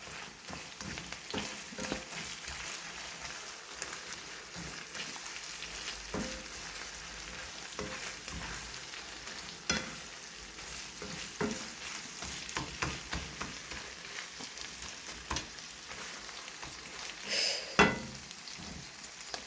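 Bamboo shoots and beaten egg stir-frying in a pan give a steady, close sizzle with scattered scrapes of a utensil, ending in a brief louder clatter near the end.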